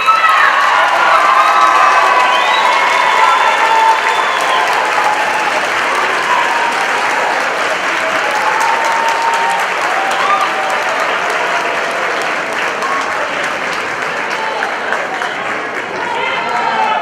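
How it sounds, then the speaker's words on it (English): Audience at a middle school promotion ceremony applauding, loud continuous clapping with cheers and shouts from a large crowd, sustained for the whole stretch. "please stand and turn around and applaud the people that made this possible"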